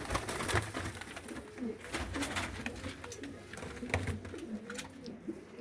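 A red-pearl-eyed pigeon coos in repeated soft, low rounded phrases close by, over a busy background with faint chatter from others nearby.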